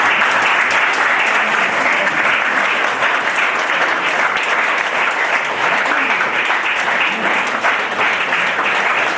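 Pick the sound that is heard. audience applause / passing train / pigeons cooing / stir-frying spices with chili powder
audience applause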